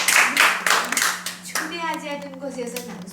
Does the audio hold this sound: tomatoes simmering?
no